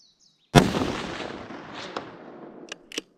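.338 Lapua Magnum rifle fired during a goat hunt in Hawaii: one loud, sharp report that rolls and echoes away, followed by faint clicks of the action.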